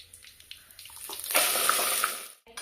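Water poured into a pan of country-style fish curry, a steady splashing stream that builds, holds for about a second, then tails off; no talking.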